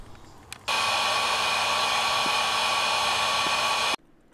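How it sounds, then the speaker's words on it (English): A heat gun blows steadily for about three seconds to shrink heat-shrink wrap over wire connectors during a header install on a V8 4th Gen 4Runner, a loud constant whooshing roar with a whine, starting and stopping abruptly. "Use a heat gun on the shrink wrap after that."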